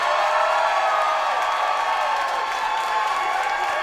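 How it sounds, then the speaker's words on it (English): Recorded crowd roar and applause on a comedy album intro as comedian Marty DeRosa is welcomed to the stage, a steady, dense wash of clapping and cheering that holds at full level throughout. "Giant applause."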